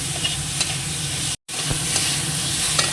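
Close, steady sizzling of mango chutney frying in a pan with turmeric and salt. Light stirring taps are heard, and the sound cuts out completely for a brief moment midway.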